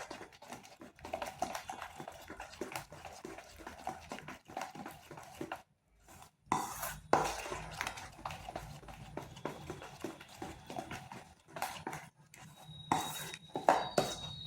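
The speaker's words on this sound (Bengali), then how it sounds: "বেকিং পাউডারটা ভালোভাবে মিশিয়ে নিচ্ছি" A spoon stirs semolina and sour yogurt batter with a pinch of baking powder in a bowl, making close, repeated clinks and soft scrapes with brief pauses. No one speaks.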